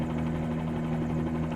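Steady helicopter engine drone with a constant low hum and rotor tone in a flight simulator game, in calm live weather, moderately quiet and unbroken with no voices.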